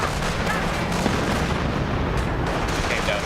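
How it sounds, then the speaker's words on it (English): Dense, continuous booming of mortar artillery fire in a video game, loud and close, forming a constant rumbling roar with no distinct gaps between blasts. "he's finally pulling out the mortars."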